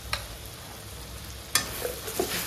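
Chicken frying with turmeric in a pan, a soft steady sizzle with a couple of sharp scrapes of a spoon stirring through it, close and fairly quiet.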